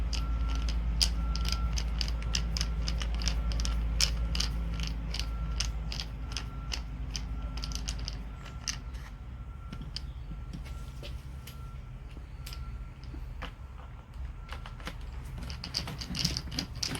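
Small screws being threaded into the carburetor of a Husqvarna 435 X-Torq chainsaw, heard as soft, repeated mechanical clicks and ratcheting creaks over a steady low hum, close by and with no one talking.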